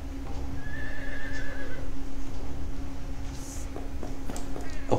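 A horse in the video game Sacred neighs loudly and close by, with a long whinny followed by clip-clop hoofbeats over a steady game background hum.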